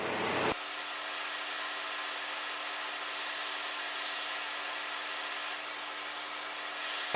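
A hot-air rework station blows steadily over a Nintendo Switch board coated with flux. The airflow makes a continuous, even whoosh with a faint whine, and it starts abruptly and holds at a moderate level with no talking.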